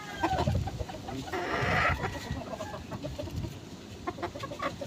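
Chickens cluck repeatedly in short bursts, with a rooster-like call rising briefly near the start, all fairly close and continuous.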